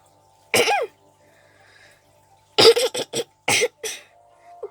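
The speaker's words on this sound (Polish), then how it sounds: "mamy taki kaszel" Several harsh coughs: one at first, then a tight cluster of four or five after a pause, loud and close, with no talking.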